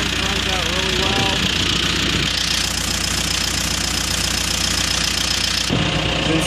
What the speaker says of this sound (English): The engine runs out really well.